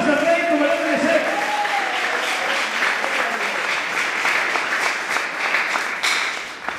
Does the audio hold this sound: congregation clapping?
yes